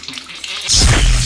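Hot water is poured while tea is being made with sugar and tea leaves, a sudden loud, splashing gush that starts partway through and runs steadily to the end.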